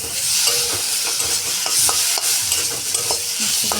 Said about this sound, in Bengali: নাড়াচাড়া করে নিয়ে ভালো করে মশলাগুলো লাগাবেন ভালো করে।